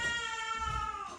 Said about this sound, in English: That's the cat, just being a cat.